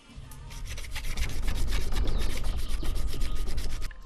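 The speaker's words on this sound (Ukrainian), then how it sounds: "Наждачка крупна." Coarse sandpaper rubbed back and forth over an assault rifle's blued metal before painting, a close, steady, dense rasping scrub that runs without pause for the whole stretch.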